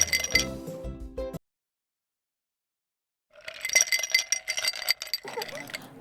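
Ice cubes clink and tumble into a glass for a homemade lemon soda, two bursts of bright chinking separated by a silent gap, close and fairly loud, with no talking.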